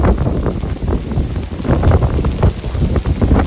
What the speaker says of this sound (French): Pluie torrentielle.